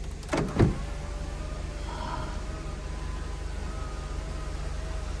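A quiet, steady motor hum runs for several seconds after a couple of soft clicks as the power sunroof of a 1999 Buick Park Avenue Ultra slides, over a low engine idle.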